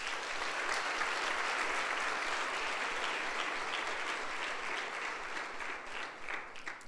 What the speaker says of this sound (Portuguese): Então dá um aplauso a Jesus.